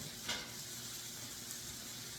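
A medium-sized purple onion browning in a pan: a faint, even sizzle with one brief scrape near the start, quiet and unbroken by talk.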